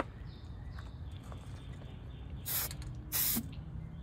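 Spray paint going onto a 1957 Chevy in light coats: two short, sharp hissing bursts about half a second apart over quiet background noise.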